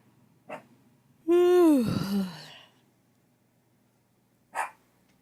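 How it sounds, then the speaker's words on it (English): A dog in the game Dragon Age Inquisition gives one drawn-out, wailing bark-howl, loud and close, with short faint yips just before and after. "What are you barking at? There's nothing to bark at."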